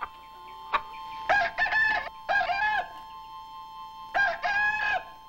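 An old farm rooster crows several times in a row, loud and close, with brief gaps between the drawn-out calls and no other sounds.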